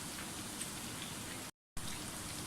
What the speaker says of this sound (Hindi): प्याज हमारे फ्राई हो गए